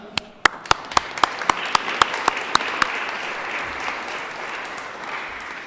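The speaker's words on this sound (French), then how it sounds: "je pense qu'on peut s'applaudir, tout le monde ici, hein?" Attendees at a mayor's community gathering applaud themselves. One person claps sharply and close by at a steady beat over a broader, softer wash of room applause, and the clapping trails off toward the end.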